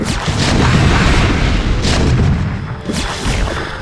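Booming cannon blasts from massed siege tanks in a long StarCraft 1 match, a dense rolling barrage of loud, overlapping explosions with no pauses, sustained throughout.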